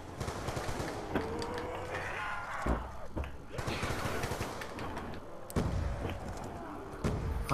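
An AN-94 rifle and other guns fire in a co-op zombies shooter on the Die Rise map. Rapid bursts and single shots come in irregular clusters with thuds and slams, close and fairly loud.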